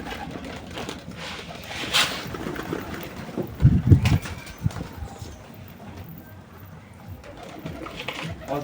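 Pigeons cooing and fluttering near the camera while bathing, with a burst of louder wingbeats and splashing around the middle, set against continuous outdoor background noise.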